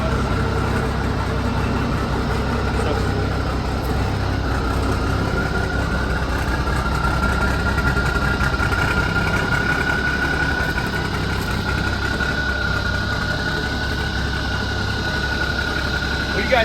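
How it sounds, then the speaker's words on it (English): Old Kenworth truck engine idling steadily, a low, even rumble with a faint whine running through it, close and continuous throughout with no break in the sound. "God, I love the sound of these old Cummins trucks."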